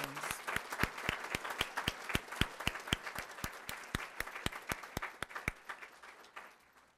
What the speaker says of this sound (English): Each one of these individuals are deserving of our applause